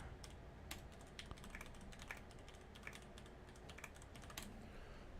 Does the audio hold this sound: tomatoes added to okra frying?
no